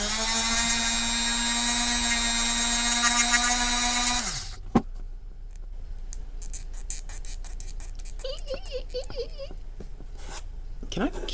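A Dremel rotary tool whines steadily while grinding resin on a figure build, a loud continuous high-pitched buzz that stops abruptly after about four seconds, followed by quieter scattered clicks and handling noises.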